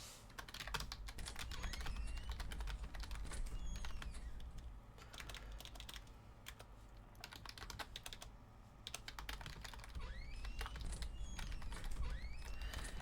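Steady computer keyboard typing fills the stretch in a Sherlock Holmes mystery game, rapid clustered keystrokes pausing briefly midway, set against a low background hum.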